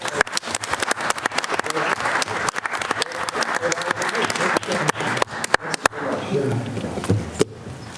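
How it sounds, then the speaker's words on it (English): Applause from the audience for presenters at a county board of commissioners meeting: a steady run of dense clapping that fades toward the end, with a few louder isolated claps. "Round of applause for these gentlemen."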